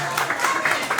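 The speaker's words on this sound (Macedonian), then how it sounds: "сакам да го поздравиме Раджемо исто со еден аплауз" Church congregation applauding, a brief burst of dense clapping from a crowd indoors, fairly loud and close.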